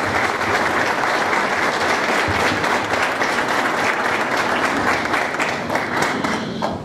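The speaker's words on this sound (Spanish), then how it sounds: "Por favor, el aplauso para él." Sustained audience applause at a ceremony handing over a restored religious statue, dense clapping from a sizable crowd at an even loudness throughout.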